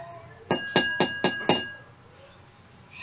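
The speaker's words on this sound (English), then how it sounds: "Hit the glass with the least amount of water and observe the sound." A glass holding very little water is struck five times in an even, quick rhythm, each strike a bright, ringing clink that decays briefly before the next, close and clear in a quiet room.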